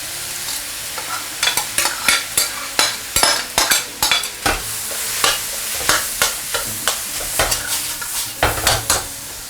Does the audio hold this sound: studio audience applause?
no